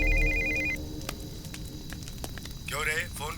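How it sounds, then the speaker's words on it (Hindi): A telephone rings in a tense police scene, a steady electronic trill in the first second, followed by sirens, crackles and a shout toward the end. "Sir phone sir."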